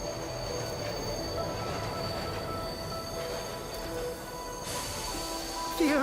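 Moving train in the video game Bright Paw, heard as a steady continuous rumble with metallic wheel squeal and tonal whine, nearing a station; a brief higher warbling squeal comes near the end.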